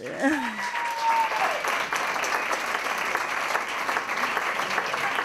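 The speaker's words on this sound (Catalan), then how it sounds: "Fort aplaudiment." Sustained applause from a theatre audience at a stand-up comedy monologue contest, dense and even clapping that continues throughout, with a voice briefly heard at the very start.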